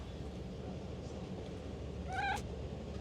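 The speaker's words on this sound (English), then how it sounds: "I wonder if my cat will give us a meow" A pet cat gives one short meow near the end, a brief rising call standing out against a steady room hiss with no talking.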